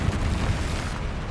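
Fiery spell explosion from the Confringo curse in the video game Hogwarts Legacy, a dense rumbling blast with strong low boom that fills the short moment at steady loudness.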